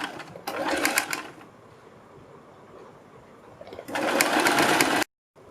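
Nearby, a sewing machine stitches a folded strip onto a kurti neck, running in two short bursts with a quiet pause between them and ending abruptly.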